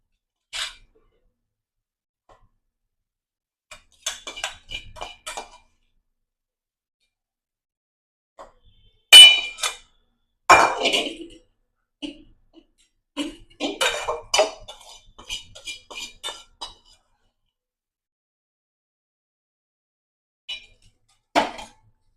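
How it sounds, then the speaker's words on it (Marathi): Ridge gourd chutney is scooped from a kadhai into a bowl in scattered bursts of spoon scraping and metallic clinks, separated by long stretches of silence. "त्यासाठी ती लगेच कुठल्या तरी बोलमध्ये काढून घ्यायची"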